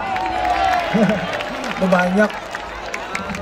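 At the SIMMOK 6 entertainment event in Indonesia, the crowd claps in scattered bursts beneath a loud voice speaking and drawn-out vocal sounds. The applause thins out during the final second.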